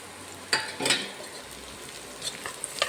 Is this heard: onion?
yes